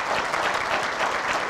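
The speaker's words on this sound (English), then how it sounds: "Give yourself a round of applause." Audience at a speech giving a steady, dense round of applause, fairly near and unbroken for the whole stretch.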